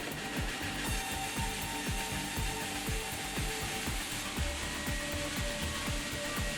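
Sawmill edger machinery with continuously rotating saw blades trims rough edges off boards on a high-speed conveyor, a dense industrial roar cut by a fast, regular train of mechanical clacks that never lets up.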